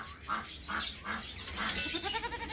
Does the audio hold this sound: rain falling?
no